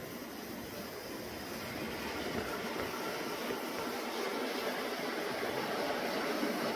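A miniature Pennsylvania GG-1 model passenger train runs on a layout, making a steady, even whirring rush that grows slightly louder as it comes closer, with no talking.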